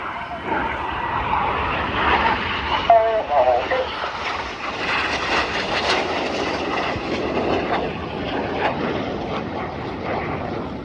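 Red Arrows jets at an air show at RIAT 2025 give a loud, sustained roar as they fly past, continuous and broad, with a commentator talking over it.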